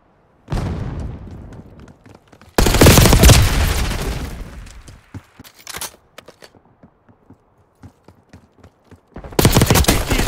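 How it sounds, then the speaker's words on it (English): Bursts of gunfire from Call of Duty Black Ops 6 during a firefight, with a dense sustained volley, scattered single shots and a second heavy burst at the end, loud and close with no talking. "Taking fire!"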